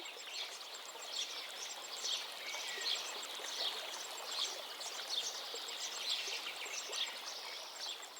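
A stream flows through a wooded gorge in a continuous bright rushing trickle, with faint bird chirps repeating at a steady pace above the water, soft and fairly distant, with no voices.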